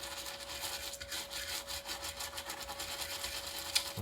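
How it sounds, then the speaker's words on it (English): Horsehair brush scrubbing flux remover on a circuit board during a Technics SA-202 amplifier repair, quiet rapid back-and-forth bristle rasping strokes in close, steady rhythm, with no speech. "Just a bit squirt there, and then I scrub that with a horsehair brush."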